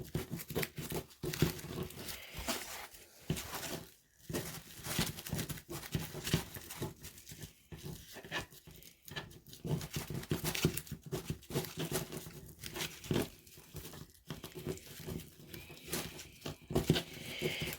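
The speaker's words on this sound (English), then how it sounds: "I'm going to gather and turn, gather and turn, gather and turn." Paper is gathered, rolled and crumpled by hand to make embellishments, giving a continuous close crinkling and rustling with irregular louder crackles and brief pauses, no voices.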